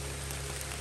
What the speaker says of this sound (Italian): E piove, ma felice.